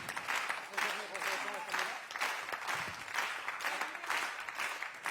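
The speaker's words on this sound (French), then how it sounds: "Les applaudissements, c'est pour nous." A concert crowd applauds after a live show at Le Cèdre in Chenôve, steady rolling clapping with swelling bursts, mixed with a voice speaking over it.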